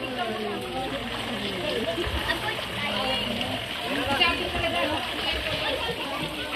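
Water splashes and sloshes into an unchlorinated four-foot pool, a continuous rough wash under children's voices and adult chatter at a family outing.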